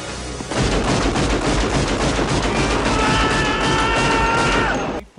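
Gunfire shot into the air as a sound effect: a dense, continuous rattle of rapid shots, loud and close, lasting about four and a half seconds before cutting off abruptly.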